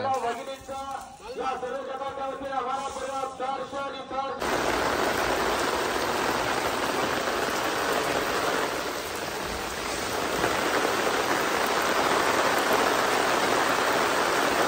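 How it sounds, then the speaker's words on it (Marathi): Rain begins to fall again at a rural home in Konkan, a broad, even hiss of downpour that swells in suddenly and holds steady and loud, with a voice talking at first. "पावसानं परत सुरुवात केल्या ना."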